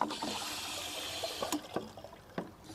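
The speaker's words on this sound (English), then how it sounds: "And I fill up the watering can." Water runs steadily into a watering can, a soft continuous splashing rush with a few small knocks and drips over its short length.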